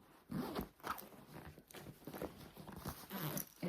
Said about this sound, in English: Then your next pocket has double zippers.